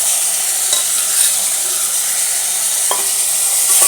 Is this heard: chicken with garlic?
yes